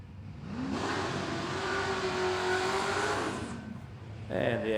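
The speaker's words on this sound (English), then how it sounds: "Running a few laps in the big XA hardtop." A big XA hardtop car running a pass at a drag strip, its engine revving up loudly and holding a strained rising roar before cutting off, followed by a brief quieter tone.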